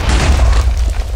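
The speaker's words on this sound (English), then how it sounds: "Hey, look, explosion!" A deep, loud boom from an explosion in the video game Minecraft, a single heavy burst with a rumbling low end that fades over about a second.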